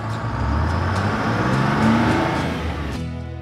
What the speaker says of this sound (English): Dump truck.